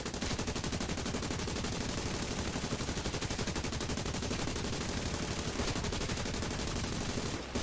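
Sustained machine-gun fire from the defensive gunners of a Blenheim Mk 4 bomber in War Thunder, a dense, unbroken rattle of rapid shots that stays loud and steady throughout with no talk over it.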